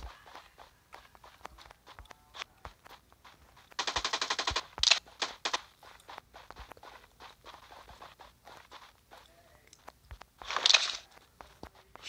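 First-person shooter gunfire comes in two quiet rapid bursts, one early and one near the end, over scattered footstep-like crunches, with faint talk in the background.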